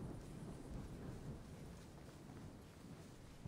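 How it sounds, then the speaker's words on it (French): Thunder rumbling through a stormy island scene in the video game Immortals Fenyx Rising, a steady low roll with rain-like hiss, moderately loud and continuous without any talk. "On entend des éclairs"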